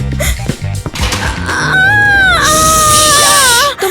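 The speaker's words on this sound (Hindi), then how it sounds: "तुम चिल्ला क्यों रही हो?" A pregnant woman in labor cries out in a jail cell, with broken sobbing and whimpers that rise into a loud, sustained, wavering scream close to the microphone.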